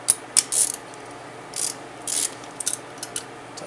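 Valve spring compressor being tightened on an aluminum LS cylinder head, a few short metallic ratcheting clicks in separate bursts, close and with no voice.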